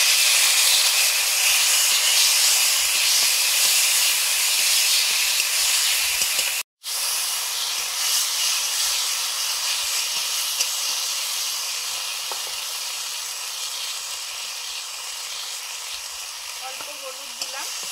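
Dried red chilli, black cumin and ground thankuni (Indian pennywort) paste hiss and sizzle in hot oil, a bright steady frying crackle lasting throughout with one brief break and a few faint clinks.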